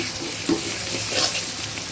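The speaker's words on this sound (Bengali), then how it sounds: "এই দিয়ে দিলাম রসুনটা আর পেঁয়াজ পেঁয়াজটা ভাজা ভাজা হবে" Garlic and onion frying in hot oil, a close, steady sizzle with a couple of brief stirring scrapes, no talking.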